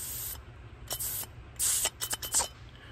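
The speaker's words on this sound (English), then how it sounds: "I'm going to blow in this side, plug this side with my hand, and then when I work the valve right here" Air is blown through the float valve of a Fiat 850 carburetor in a series of short hissing puffs, several brief close bursts of airy spray-like noise separated by quiet gaps.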